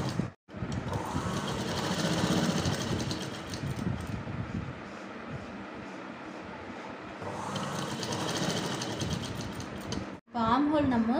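A sewing machine runs in long steady bursts while stitching the armhole of a newborn baby dress, with brief pauses and a close, even mechanical whir.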